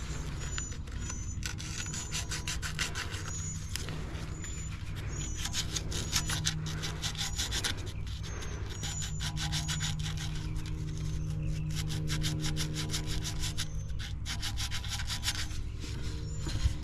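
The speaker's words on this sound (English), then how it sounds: "try to sand this as much as I can." Sandpaper rubbed by hand back and forth over a part from a failed X-13 with no cooling, steady rasping strokes in an even rhythm throughout, close and moderately loud, no speech.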